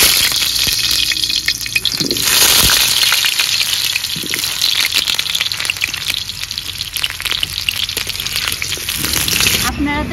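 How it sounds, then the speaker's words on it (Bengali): Potato pieces frying in hot oil, a steady loud close sizzle with a hiss like rain running throughout, with a brief clatter near the end. "আলুটা তেলে ছেড়ে দেব।"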